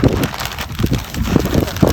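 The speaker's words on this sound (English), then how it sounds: "It's a little windy out here" Steady outdoor wind rushing and buffeting against the microphone in a raised-bed garden, a continuous low rumble with gusty swells throughout.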